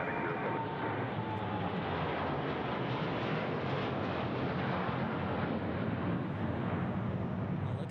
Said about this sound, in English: Whoa, another Gulfstream.